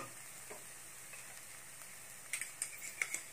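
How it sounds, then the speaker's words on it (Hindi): Masala spice paste with cashews frying in a pan, a faint, low sizzle with a few soft scraping stirs toward the end. "तब तक आप इसे लगातार चलाते हुए अच्छे से भुन लें।"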